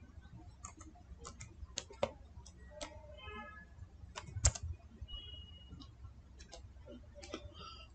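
Sparse clicking of keys on a computer keyboard, scattered taps with short pauses and one sharper knock, quiet and close in an otherwise still room.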